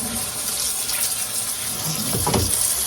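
Pork neck bones rinsed under a running kitchen tap, a steady close hiss of flowing water with a brief louder splash near the end.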